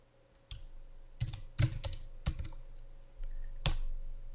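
Keystrokes on a computer keyboard while entering text into Word 2003: a handful of sharp, close clicks arriving in small irregular bursts, with brief pauses between them over a quiet background hum.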